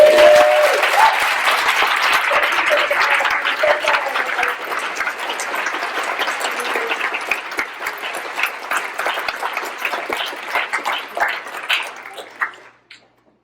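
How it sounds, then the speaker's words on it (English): Applause from a conference audience at Brigade Congress 2019 for the keynote speaker, starting full and gradually thinning into scattered individual claps before stopping, with faint voices briefly audible early on. "Let's give a big round of applause for Keynote."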